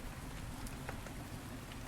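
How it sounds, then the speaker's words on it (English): Steady rain patters and hisses in the video game Rainswept, a dense continuous wash with scattered drop ticks, moderately quiet and without voices. "And on top of that, this rain."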